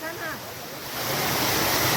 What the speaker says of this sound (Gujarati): આ છે જટાશંકરનું ઝરણું